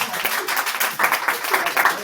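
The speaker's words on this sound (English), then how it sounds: "He gets applause," Students in a classroom give brief, close applause, a dense patter of hand claps lasting about two seconds.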